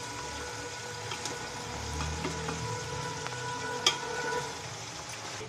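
Chicken pieces frying in a pan with fried onions for Lucknowi chicken biryani, giving a steady, moderate sizzle with faint clinks and no talking.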